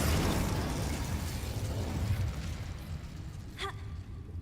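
An Incendio fire spell cast in Hogwarts Legacy, a loud roaring whoosh of flame that fades gradually, followed near the end by a short tonal game chime.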